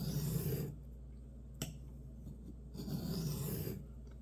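A knife is drawn across a diamond sharpening stone in a quiet room, making soft rasping strokes. Two longer scrapes are split by a pause and a single sharp tick.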